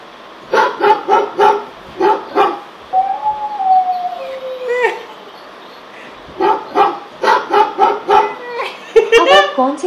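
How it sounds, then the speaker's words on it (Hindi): An Alexa smart speaker playing back a dog barking: bursts of repeated barks in rhythmic runs, a whine in between, then more barking and yips, all loud and close. "एलेक्सा, कुत्ते की आवाज सुनाओ।"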